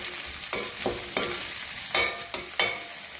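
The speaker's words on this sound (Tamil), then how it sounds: "ஒரு சின்ன சைஸு பெரிய வெங்காயம், இதெல்லாம் போட்டு நல்லா வதக்குங்க" Chopped large and small onions sizzle steadily in a hot pan, with a spoon scraping and stirring at regular intervals, close and clear with no talk.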